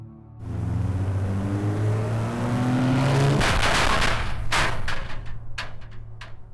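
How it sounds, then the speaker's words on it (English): An armored Land Rover's engine growls and revs up, loud and close, with a rising tone that swells into a roaring rush before sharp bangs or clatters near the end. "An armored Land Rover, its engine growling in the early dawn, led the charge."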